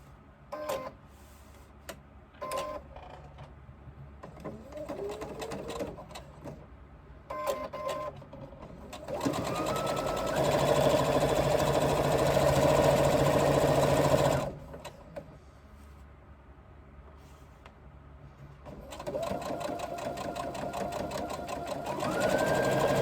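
A sewing machine bastes pieces of a crossbody bag's exterior, running in short clicking stitch bursts and then in two longer, loud, steady whirring runs up close.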